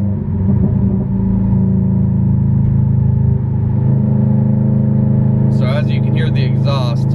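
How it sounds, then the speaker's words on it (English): Inside a Subaru STI with an Invidia R400 muffler, the exhaust drones in a low steady rumble while cruising in fourth gear, loud and close, with a brief higher whine near the end. "The exhaust right now is comparable to the volume of my voice talking in the car."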